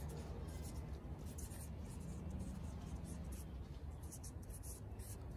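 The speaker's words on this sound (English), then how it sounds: "I'm just gonna write there, light phase." Pen writing notes during a Grade 11 life sciences lesson on photosynthesis: a steady, close scratching and rubbing that runs for several seconds at an even level.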